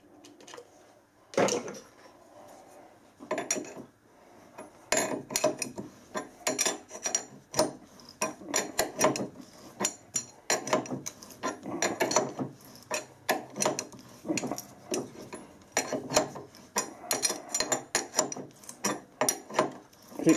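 Threading die cutting a thread on a lathe, held straight by the tailstock chuck, producing repeated ratcheting clicks and scraping metallic creaks in an uneven rhythm, close and fairly quiet.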